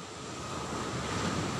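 Sea waves at Blibis beach in Nareh, Pariaman, where the shoreline is eroding, heard as a steady, moderately faint wash of surf mixed with wind noise. No one speaks.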